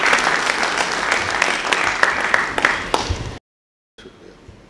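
A mushaira audience welcomes a poet with loud, dense applause, many hands clapping at once for a few seconds before it cuts off. Quieter room sound follows.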